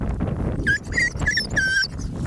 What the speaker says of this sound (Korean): 이렇게 낑낑낑낑만 거리지 사람한테 공격을 하질 않아요